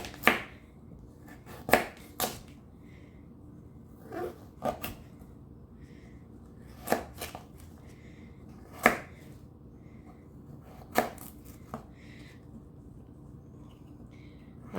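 A knife chops vegetables such as carrots on a board, with sharp, distinct chops coming irregularly in ones and twos, close and clear against a quiet kitchen background.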